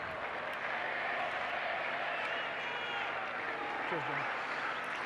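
Rugby crowd at an Argentina v England match roaring after the Pumas score, a dense sustained wall of cheering and applause with a brief whistle-like rise near the end, loud and continuous throughout.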